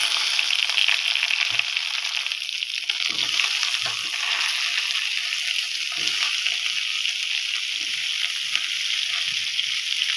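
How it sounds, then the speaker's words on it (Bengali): Pointed gourd and ivy gourd fry in hot oil, giving a continuous close sizzle with scattered soft knocks and stirring movements in the pan. "এই তেলের মধ্যে পটল আর কুঁদরি ভালো করে ভেজে নেব।"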